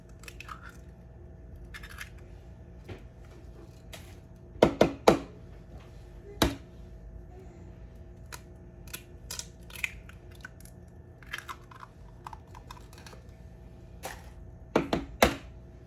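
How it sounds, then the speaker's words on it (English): Four eggs cracked one after another into muffin batter for a double batch of banana muffins, heard as sharp close taps and crunches of shell scattered across a quiet kitchen. "Next, I'm gonna add in my eggs."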